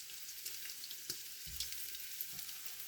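Bacon crisping in a pot for New England clam chowder gives a faint, steady sizzle with a couple of soft knocks from the utensil.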